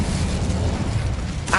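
The Incendio fire spell bursts in Hogwarts Legacy, a short, dense roaring whoosh of flame that stays loud and steady throughout.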